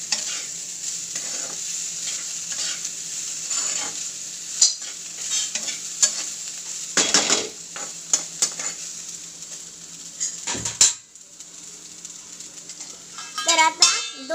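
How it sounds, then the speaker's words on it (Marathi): Jeera rice with fresh coriander is stirred in a pan: a spoon scrapes and clinks against the metal in an irregular rhythm over a soft, steady sizzle close by, with brief speech in between. "आता ही कोथिंबीर घालणार आहे आपण आणि मिक्स करा"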